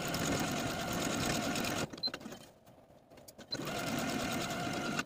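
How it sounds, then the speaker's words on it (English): Sewing machine stitching buttonholes on a dress placket, a rapid, steady mechanical whir up close that pauses briefly in the middle before running again. "I'm ready to sew my buttonholes"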